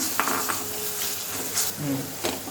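Wet-roasted gongura (sorrel) leaves go into hot oil in a pan and fry, a steady sizzle over scraping and clinking of a stirring utensil against the pan.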